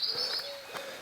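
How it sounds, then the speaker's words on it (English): Woodland birds in a glen, brief whistling and chirping calls over a soft outdoor background, fairly faint and distant, no voices. "You can hear the birds now, even better,"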